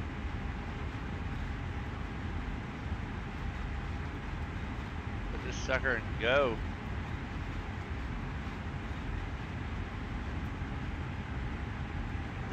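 A CSX heavy haul freight train in Train Sim World, a continuous low rumbling drone of the locomotive pulling its load, with a brief horn-like tone midway and someone speaking briefly.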